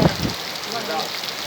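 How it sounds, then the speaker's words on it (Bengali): Torrential rain falls in a dense, constant hiss around Gourdighi, with a brief thump at the start, then a steady, close, unbroken wash of downpour. "কি হারে বৃষ্টি পড়ছে।"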